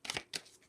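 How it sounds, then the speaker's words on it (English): A deck of tarot cards is shuffled in two quick riffling bursts, soft and close, with a brief pause between them and no voices. "I just want to shuffle a little bit more."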